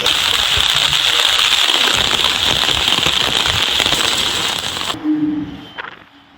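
Rain falls steadily in Mayiladuthurai district, giving a dense, loud hiss that continues for several seconds before cutting off abruptly to a quieter background.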